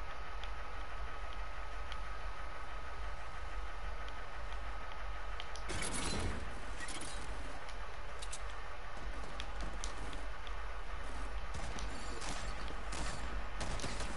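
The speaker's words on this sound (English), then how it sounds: "I hear shots. Is that you?" Gunfire in Fortnite: a burst of shots near the middle, followed by scattered distant pops and clicks over a steady ambient game bed, with no talk.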